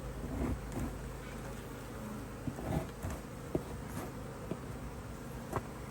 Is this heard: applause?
no